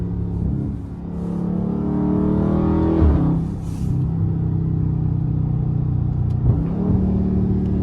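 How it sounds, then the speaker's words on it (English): A Dodge 392 Scat Pack V8 in sport mode, its exhaust droning low and loud, rising in pitch as it revs through the gears with a couple of brief shift dips, heard up close from inside the car. "I'm just giving y'all some of these exhaust notes"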